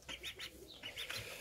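Pigeons in a breeder's loft give short, bright chirping calls and soft coos in repeated bursts, with faint wing movement, close by and moderately loud.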